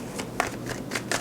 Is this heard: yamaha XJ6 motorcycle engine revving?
no